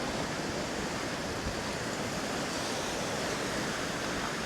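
Sea waves at Kimmeridge Bay on the Jurassic Coast wash in a steady, even broadband hiss with no distinct breaks and no voices.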